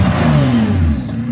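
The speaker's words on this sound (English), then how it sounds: "I'm gonna give it a little rev with the valves closed" A car engine with its exhaust valves closed revs in one brief, loud, rising and falling burst that drops back toward idle, with no voices heard.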